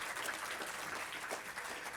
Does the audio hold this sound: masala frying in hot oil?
no